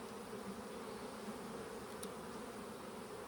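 Many honeybees in a hive that is preparing to swarm drone in a dense, unbroken buzz, steady and close throughout, with no voices.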